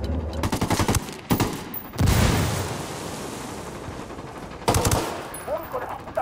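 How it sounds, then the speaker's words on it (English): Bursts of machine gun fire in the Ghost Recon Wildlands shooter, loud rapid automatic volleys with booming impacts between them, close and dense across the whole stretch. "I'm opening fire."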